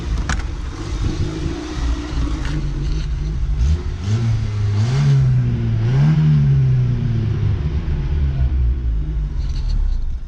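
An old Volkswagen Polo MK2 Coupé, back on the road after sitting since 2018, drives along as its engine revs and rises in pitch, then eases. The engine sounds loud and close, with a constant rumble and no talking.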